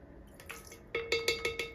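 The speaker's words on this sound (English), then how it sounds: "So now we're going to add our vanilla, and I'm using pure vanilla extract this time." Pure Madagascar vanilla extract is measured and added to red velvet cake batter, giving a few quick, close drips and small liquid splashes in a quick cluster near the end, with no talk.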